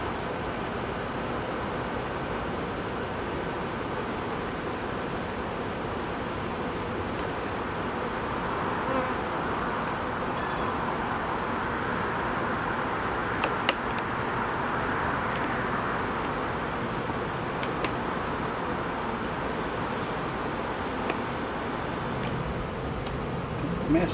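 Bees swarm and buzz around an open beehive during a varroa inspection with robbing, a dense, continuous drone that stays close and even throughout.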